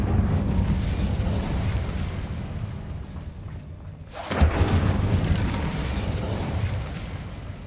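Hogwarts Legacy's Incendio fire spell, cast while fighting spiders and Ranrock's loyalists, erupts as a sharp booming burst of flame over a rumbling combat background, then roars on loudly before settling.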